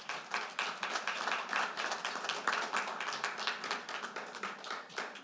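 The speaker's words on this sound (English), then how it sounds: "We're just going to let Lisa have applause" Audience applause at a homeowners association annual meeting, steady crowd clapping sustained throughout at moderate volume, no talk over it.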